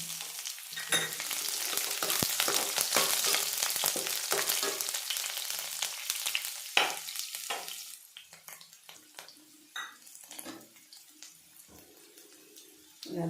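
Chopped garlic sizzles and crackles steadily in hot oil, loud and dense at first, then thinning into sparse pops and soft stirring clicks toward the end, with no talking.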